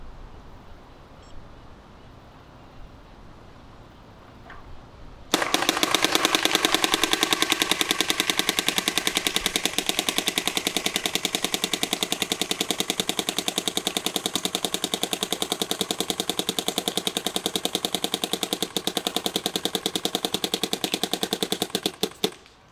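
A DLS V2 gun in a bolt loosening test starts up after a quiet stretch and runs as a loud, rapid, continuous mechanical hammering rattle close by, cutting off abruptly at the end.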